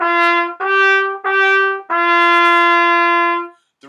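A brass instrument played close and loud gives a short phrase of three clearly tongued notes followed by a long held final note as the line climbs higher.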